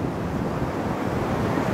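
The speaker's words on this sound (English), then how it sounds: "Waves." Ocean waves on a beach make a steady, loud roar of surf mixed with wind buffeting the microphone, continuous through the short moment with no voices.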